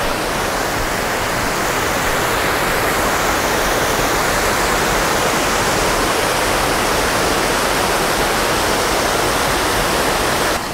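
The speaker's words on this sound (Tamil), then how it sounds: "இப்போ இதுக்கு பக்கத்துலேயே ஒரு நல்ல இன்னொரு நீர்வீழ்ச்சியுமே இருக்குது" A waterfall near Ratnapura, Sri Lanka, roars as a loud, steady, broadband rush of falling water, constant and unbroken with no other sounds or voices.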